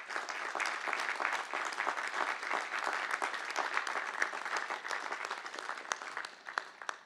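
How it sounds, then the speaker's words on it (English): Sustained applause from a graduation ceremony audience at Craven Community College for vice presidents and deans, many hands clapping steadily at moderate distance before tapering off. "Would our vice presidents and deans please stand for a round of applause?"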